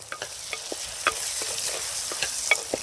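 Tomatoes, onion and cashews sautéing in a pan for brinjal gravy, an even soft sizzle broken by frequent light taps and scrapes from stirring; no voices.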